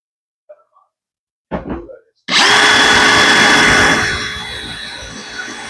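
A power drill whirs loudly and steadily after a few short knocks and scrapes, its motor holding a constant pitch as it bores a hole into a plastic tub.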